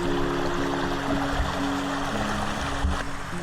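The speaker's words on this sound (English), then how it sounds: "So we've got a little creek with a tiny waterfall here." Small creek with a tiny waterfall outdoors, steady broadband rushing and trickling water throughout, close and continuous with no talk.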